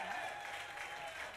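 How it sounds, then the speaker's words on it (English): Audience applause at a drum recital, a brief, steady wash of clapping heard at a distance and fairly faint. "Give him a round of applause"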